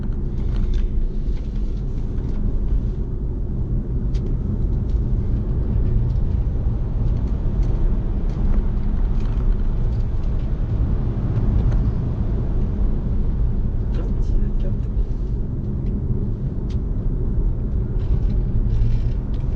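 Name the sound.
BMW i3 REX 2017 range extender turbine-like engine noise driving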